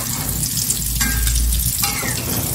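Biji ketapang cookies frying in hot oil while being stirred, a steady close bubbling sizzle with faint scraping strokes running throughout.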